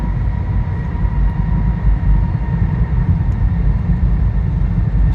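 Large ventilation fans inside the Karnaphuli road tunnel make a constant deep, loud roar that stays even throughout, heard from inside a vehicle passing through.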